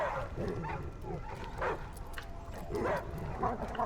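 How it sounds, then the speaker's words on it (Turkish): Several dogs in a video game bark and yip repeatedly in short bursts, fairly close, with some whimpering between barks. "Arkadaşlar çok fazla köpek sesi var"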